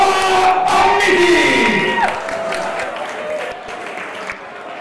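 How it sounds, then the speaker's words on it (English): Fight night crowd at a light middleweight bout cheers and applauds loudly after a TKO win, a dense roar of voices that swells at first and then gradually eases while staying steady in the background. "make the noise for Oussama Ahmiti"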